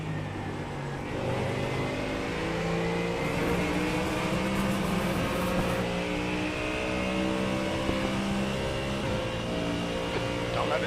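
A GT3 race car engine in a racing video game drones steadily at high revs, with a continuous layered whine and slight pitch shifts as it holds speed.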